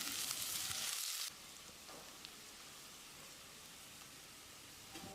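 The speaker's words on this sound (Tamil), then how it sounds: "வெங்காயத்தை நல்லா பொன்னிறமாக வதக்கிடலாம்" Onions sizzle and crackle in hot oil, a loud burst at first, then a quieter steady frying hiss with a few faint clinks.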